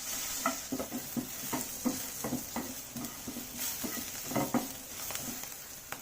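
Turmeric powder fries in a pan for Mangalorean chicken sukka while a spoon stirs, giving steady light scraping and tapping over a low sizzle, fairly quiet and close.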